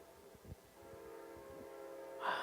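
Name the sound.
train approaching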